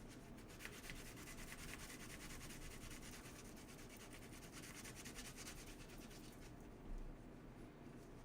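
Steady, continuous scrubbing of a Kirby vacuum part with an abrasive scrubbing pad, an even rasping rub that holds close and constant with no pauses or talk.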